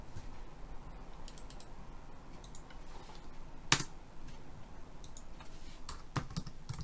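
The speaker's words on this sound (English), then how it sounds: "we can type" Typing on a computer keyboard while writing Java code for a beginner text adventure game, heard as a steady patter of soft, close clicks with a few sharper keystrokes and no talking.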